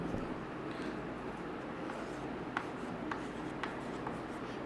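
Someone writes on a board with a series of faint, short scratching strokes and taps over a steady low room hum, with no talking.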